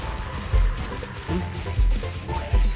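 A few heavy, booming hand grenade explosions in Call of Duty Mobile land at intervals over a busy game soundscape, each a short low thud.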